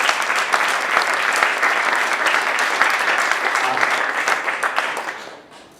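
Sustained applause from an audience at an evening spring event, dense and even clapping throughout that fades toward the end.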